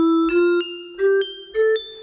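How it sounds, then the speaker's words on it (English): Echo bells preset from bank 19 of a Roland MC-303 groovebox, heard in its original form: three short bell-like notes, D then F, each ringing with a sustained tone and echo tails, played alone. "It's from the same bank, number 19,"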